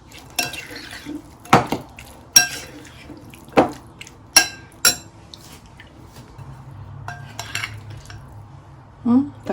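Fish salad served onto a plate with cutlery, giving a series of sharp clinks and scrapes of utensils against dishware at close range, spaced irregularly, with faint kitchen background noise.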